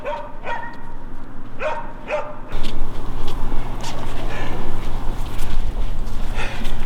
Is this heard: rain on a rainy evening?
no